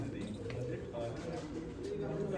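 Pigeons coo faintly in the background, their low murmuring mixed with indistinct voices nearby.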